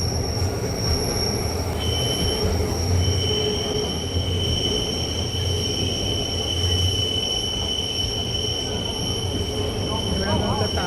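Swiss mountain train crossing a bridge in the Alps, with a steady rolling rumble and sustained high wheel squeal throughout, heard from on board, loud and continuous.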